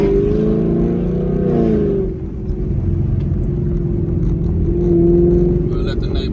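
A Chevrolet SS cruises smoothly with a steady, low engine drone heard from inside the cabin. The hum dips briefly, then holds even and close.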